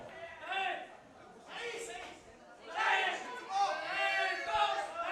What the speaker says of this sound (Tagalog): Listen to that crowd, Noel. Listen to that crowd.